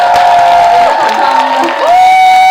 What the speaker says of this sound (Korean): 김은준 배우님께 큰 박수.